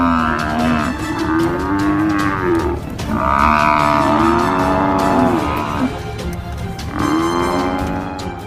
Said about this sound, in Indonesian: kerbau malang ini terus-menerus berteriak seolah meminta pertolongan agar kawanannya datang untuk membantunya